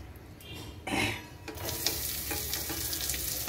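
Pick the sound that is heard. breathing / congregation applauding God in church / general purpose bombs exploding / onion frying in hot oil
onion frying in hot oil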